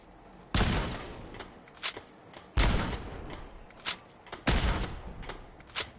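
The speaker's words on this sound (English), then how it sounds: "And then the Gauss rifle" A Gauss rifle in modded Fallout 4 fires three heavy, sharp shots spaced about two seconds apart, each followed by quieter mechanical clicks, close and loud, with no voices.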